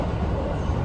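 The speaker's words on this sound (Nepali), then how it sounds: "अहिले फाइनल्ली म चाहिँ ट्रेनमा चढेँ होइन अहिले माचुयामा जाँदैछु" Rumbling ride inside a small, short local village train near Mathuyama, a steady low drone of wheels and carriage noise filling the cabin with no talking.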